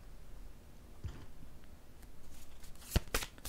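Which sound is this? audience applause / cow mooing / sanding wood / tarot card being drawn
tarot card being drawn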